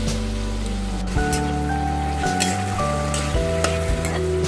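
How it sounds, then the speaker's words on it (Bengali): Boiled cucumber curry fries in a pan with a continuous loud sizzle and crackle as the water cooks off, occasional stirring scrapes breaking through, no voices. "এখন আমি ভাজা ভাজা করবো"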